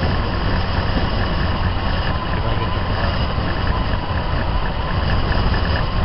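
A Jeep engine idles roughly as its carburetor idle mixture screws are turned in, starving the fuel until it nearly stalls; a steady, close, loud low rumble runs unbroken.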